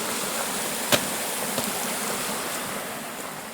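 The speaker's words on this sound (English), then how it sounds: "That creek sounds good." A creek runs near a campground as a steady broadband wash of flowing water, continuous and moderately close, with a couple of faint clicks and no voices.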